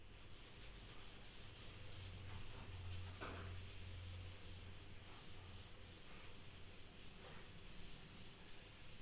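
A classroom board being rubbed clean with steady, continuous scrubbing strokes, close and fairly loud, with no talking over it.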